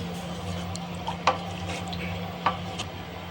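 A spoon stirs sago payasam in a pot over low heat with a soft background sizzle, and two faint metallic clinks of utensil against the rim stand out. No one speaks.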